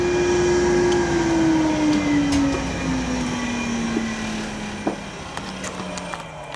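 Continuous mechanical whine of a sand bead blaster's vacuum motor running, its pitch slowly dropping, with a broad steady rush of air and a few faint clicks.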